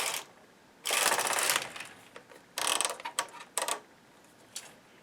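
A domestic knitting machine's carriage sliding left across the needle bed in a sweep, followed by a few shorter clattering mechanical bursts and clicks, close and fairly loud, with quiet gaps between.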